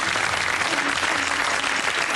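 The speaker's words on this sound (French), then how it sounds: "Fakir Bouboun, que vous pouvez applaudir." An audience claps steadily for a fakir performer in a dense, unbroken wash of applause that is fairly loud and continuous throughout.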